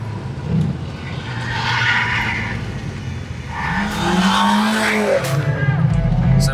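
Stage 1 tuned car on semi-slick tires and racing brakes driven hard on a race track, engine roaring close with repeated tire squeal through corners, while a voice speaks faintly inside.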